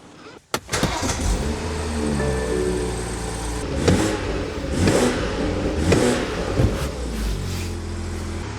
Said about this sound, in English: we are waiting the engine to heat and to check the cooling system for exhaust gas leaks